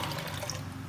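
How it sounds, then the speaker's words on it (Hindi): Water poured into a pot of overnight-soaked lentils for beef haleem, a steady close splashing and filling sound that runs unbroken through the whole moment with no talk. "और इसमें अब एक्स्ट्रा हम डालेंगे पानी।"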